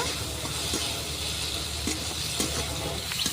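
Tomatoes and green chillies frying in a pan after onions, giving a steady broadband sizzle with a few faint stirring clicks throughout.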